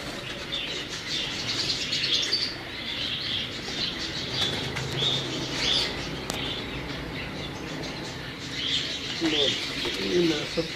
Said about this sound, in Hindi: ये तमाम आपको टैडी कबूतर ही दिखाए जा रहे हैं